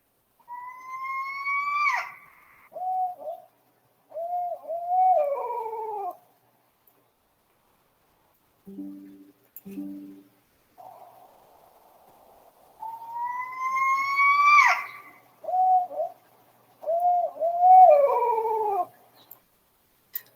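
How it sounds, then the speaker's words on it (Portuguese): A barred owl (Strix varia) calls in two clear series: rising, hooting phrases with wavering, descending tails, separated by a pause with a few soft low notes, loud and alone. "a primeira espécie aqui é a Strix varia, que é a coruja barrada"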